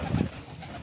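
Pigeons coo close by in a short, soft burst that quickly fades, leaving faint background hiss.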